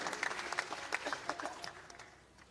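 Sparse audience clapping at a government event in India welcoming the Prime Minister, individual claps standing out before tapering off, fairly quiet.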